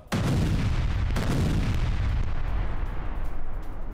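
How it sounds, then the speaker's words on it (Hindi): News footage of an IDF strike in Jenin, West Bank, on an underground weapons depot: a sudden heavy blast opens, then a second boom follows about a second later, with dense rumbling debris and roar sustained loudly throughout. "आईडीएफ हमले में अंडरग्राउंड वेपन डिपो तबाह कर दिया।"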